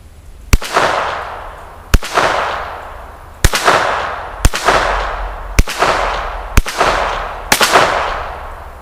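Seven sharp, loud shots from a Ruger Mark III .22 LR handgun fired at irregular intervals about a second apart, each crack trailing off in a brief echo, with no talking.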